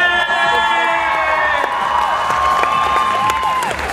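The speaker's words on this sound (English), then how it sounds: "Once they get up, you get a big cheer" A large crowd at a cosplay stage event at Sydney SMASH! 2012 cheers, whoops and applauds loudly and continuously, a dense roar of voices with rising shouts throughout.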